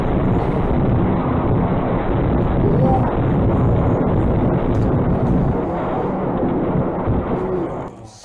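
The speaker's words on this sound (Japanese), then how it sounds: "いきなり 爆発が起きました" Blast noise from an explosion in a residential area of apartment blocks and a school, heard as a loud, dense, sustained rumble that fills the whole stretch before dropping away at the end.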